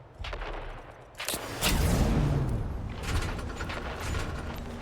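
Grenade explosions in Dune Awakening, sharp bursts and a big rumbling blast around the middle, followed by rattling, crackling debris and scattered gunfire-like pops at moderate loudness.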